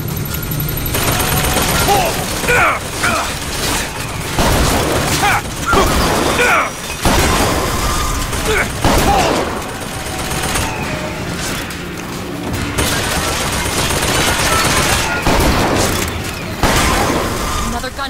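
Rockets fire and explode in Bioshock Infinite, a dense stretch of repeated booms, blasts and mechanical gunfire clatter running loud throughout, with voices talking over the combat.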